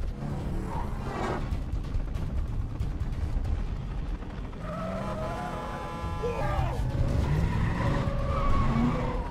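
In a high-speed chase after a black sedan, car tires skid and scrub over a rumbling engine, with tonal sounds layered on top during the second half.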